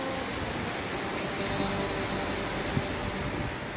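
Steady rain falling during the wet season in Isaan, northeast Thailand, a dense even hiss of drops on surfaces throughout, close and fairly loud with no talk.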